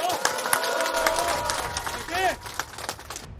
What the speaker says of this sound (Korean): 전재수 좋은 사람이라면 박수 한번 보내주시기 바랍니다